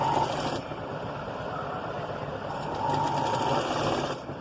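A sewing machine runs steadily while stitching a six-year-old girl's blouse, a close mechanical whirring hum with a short pause and slight speed changes as it reverses and continues.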